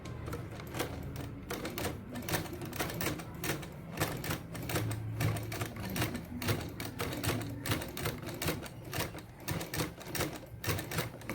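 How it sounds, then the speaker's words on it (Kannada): A small domestic sewing machine stitches cloth with a fast, even mechanical clatter, steady and close, with no speech. "ಇವಾಗ ಬಟ್ಟೆನಿಟ್ಟು ಹೊಲಿದು ನೋಡೋಣ."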